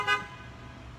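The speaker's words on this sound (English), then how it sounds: "I'm almost used to the horn honking right now" A car horn outside gives one brief, muffled toot, heard from a distance through a building over a low steady room hum.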